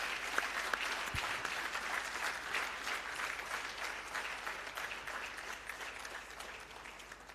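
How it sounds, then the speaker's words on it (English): An audience at the closing ceremony of a moot court competition applauds steadily: dense, continuous clapping from a crowd, moderately faint and slowly tapering toward the end. "give a warm round of applause to the organizing committee of the 8th Victors Moot"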